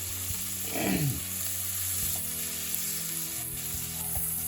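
Melted butter with flour being stirred into a roux for a brown Espagnole-style sauce, giving a constant gentle sizzle with brief spoon scrapes against the pan, close by and without talking.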